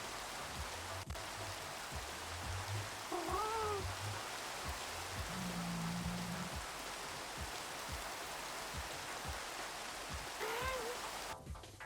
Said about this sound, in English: Did it just go from a thunderstorm to a regular rainstorm?